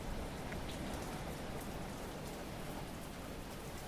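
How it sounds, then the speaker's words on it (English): Steady rain falls outside, a dense even hiss of drops hitting surfaces, continuous and fairly loud throughout with no voices, heard within a horror game set in an empty police department. "Wait, it's raining outside."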